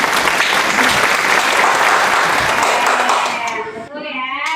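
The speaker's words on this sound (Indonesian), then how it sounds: "Tepuk tangannya dulu sayang" A class of children claps together in a dense, sustained burst of applause that fades near the end, with a few young voices breaking through as it thins out.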